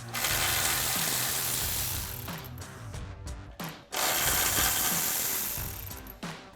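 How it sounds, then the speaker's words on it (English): Ratchet wrench with a 12 mm socket backing out the mounting bolts of a Barricade S6 running board on a truck, a continuous fast pawl clicking with brief pauses and bursts, close and loud, no talking. "we're going to grab our 12 mil socket and remove all of the bolts in place"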